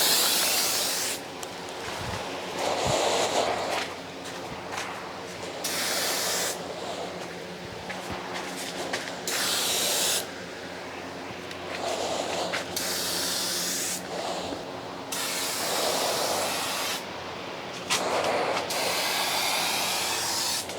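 An aerosol spray paint can hisses in repeated long bursts of a few seconds each, separated by brief pauses, while a vintage police car is painted; the spraying is close and steady, and no one talks.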